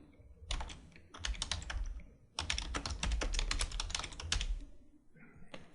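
Close, quiet typing on a computer keyboard, two bursts of rapid key clicks separated by a short pause, with a few more taps at the end.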